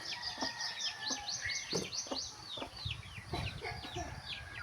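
A hen clucks softly while small chicks peep in repeated high chirps, with other birds calling in the background.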